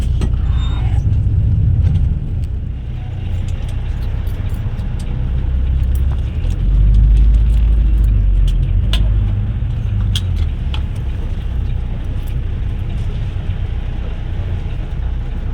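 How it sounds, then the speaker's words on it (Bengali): Traffic noise in a heavy jam reaches the cabin of a Greenline AC Volvo bus at night, a continuous low engine rumble with occasional jingles and clicks, and no talk. "তো এখানে এখন প্রচণ্ড জ্যাম, জানি না কিসের এত জ্যাম রাস্তায়।"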